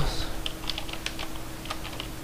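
Quick taps on a computer keyboard as HTML text is typed, a dense, even patter of keystrokes close to the microphone, with no talking over it.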